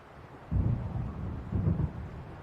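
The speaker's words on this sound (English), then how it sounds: "It seems there's a storm coming." Thunder from a storm in the video game Alan Wake, two deep, muffled rumbles about a second apart, rolling low and moderately loud over a faint steady hiss with no voices.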